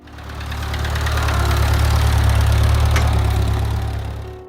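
A Ford 9N farm tractor engine runs steadily with a strong low rumble and a rhythmic knocking pulse, swelling slightly and fading at the end, loud and close with no talking.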